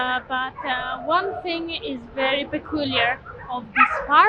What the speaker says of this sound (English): They have an area all fenced for dogs, for you can hear them in the background as well.